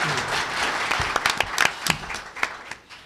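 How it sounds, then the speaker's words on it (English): An audience at a Colorado State Treasurer candidate forum applauds the candidates, a brief burst of moderate clapping that thins out and tapers off within a few seconds. "Can we give them a round of applause?"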